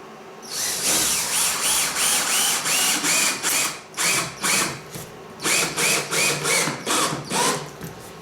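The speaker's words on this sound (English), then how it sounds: "Put one in one side first, and then we'll put the other screws in afterwards." A power driver runs screws into the wood of a workbench being built, close and loud, in about a dozen short whirring bursts with brief pauses between them.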